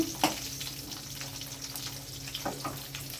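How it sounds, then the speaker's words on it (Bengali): Potatoes fry in hot oil with a soft continuous sizzle and occasional stirring clicks. "এবার আমি এই তেলের মধ্যেই দিয়ে দেব আলু"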